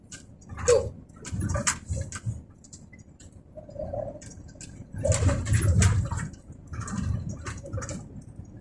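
Rain-fed flood water on a road in Saudi Arabia flows and splashes in uneven surges, loud bursts of gushing and dripping with scattered ticks in between.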